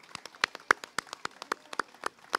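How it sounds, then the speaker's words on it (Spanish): Scattered audience applause for a choir at a book fair presentation event: sharp individual claps in an irregular, fairly sparse rhythm, close and distinct, with no talking over them. "un aplauso otra vez"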